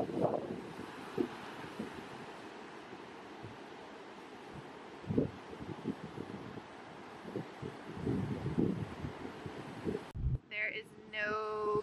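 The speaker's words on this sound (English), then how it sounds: "I don't even know if you can hear me, but it's so windy" Strong wind gusting across an open beach on the 30A coast, a steady broadband roar with rustling bursts, while someone talks over it throughout.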